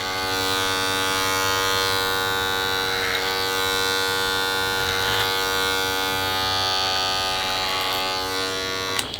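Electric hair clippers buzz steadily during a clipper-over-comb haircut at a barbershop, a close, continuous motorized hum with a few brief shifts in pitch as the blades move through the hair.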